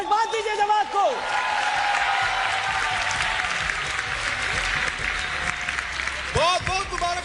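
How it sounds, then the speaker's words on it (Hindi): A studio audience on a TV game show breaks into sustained, loud applause lasting several seconds, with a host speaking at the start and end. "भरपूर तालियों में मुबारकबाद दीजिए जवाद को।"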